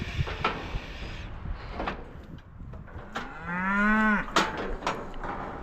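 A cow lets out one loud, drawn-out moo close by while cattle are being treated with injections on a farm, amid clattering metal of a chute or gate and general handling noise.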